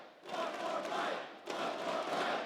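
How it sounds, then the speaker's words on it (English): A crowd cheers at an esports grand final, a sustained roar heard in two swells with a short dip between them. "every time he eats a piece of the banana, the crowd cheers."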